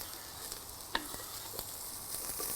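Canola oil sizzles in a hot pan, a steady close crackling hiss with occasional sharper pops, fairly quiet and without voices.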